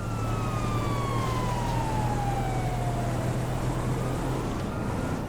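Police sirens wail during a chase in GTA 5, a sliding tone falling slowly over a loud continuous roar of traffic and engines, with no voices.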